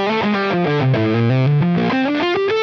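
Electric guitar through a Rat distortion pedal set high into fuzz plays a thick, sustained melodic line that slides down and back up, loud and saturated with no talk.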